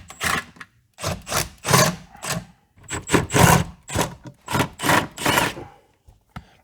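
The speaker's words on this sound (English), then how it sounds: "next we need to remove 4 10mm bolts that hold this large knee protection panel" A ratchet wrench removing 10mm bolts from the under-dash knee protection panel of a BMW E32 or E34, with loud, close rasping bursts of ratcheting in a steady rhythm of about a dozen strokes separated by short pauses.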